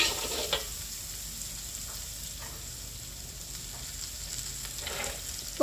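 Carrots and chicken sautéing in a pan for a ragout filling, a soft, steady sizzle with occasional stirring scrapes and light clinks, close up and with no talk.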